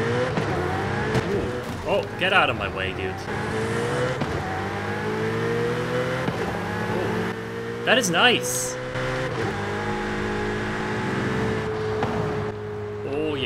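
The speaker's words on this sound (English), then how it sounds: "let's see then what it sounds like when we get on the move." Car engine accelerating in the racing game Forza Horizon 5, a continuous revving drone climbing through gears with a few quick shifts and brief tire squeals, while someone talks over it.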